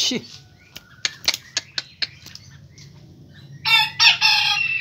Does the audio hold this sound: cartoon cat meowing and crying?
no